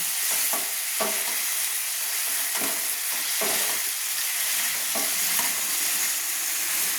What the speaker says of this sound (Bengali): এবার আমি ভেজে রাখা পটলগুলো ভেজে রাখা পটলগুলো দিয়ে দিচ্ছি দিয়ে কষিয়ে নিচ্ছি পটলটা কষিয়ে নিচ্ছি